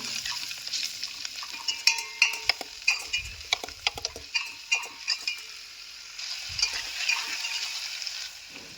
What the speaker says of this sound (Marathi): कांदा मस्त लालसर होईपर्यंत भाजून घ्यायचा आहे।